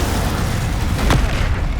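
A whooshing burst of the Incendio fire spell cast in the Hogwarts Legacy video game, a short rising flare over a dense, steady rumble of combat noise, loud and close.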